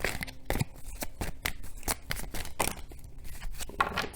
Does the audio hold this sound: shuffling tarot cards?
yes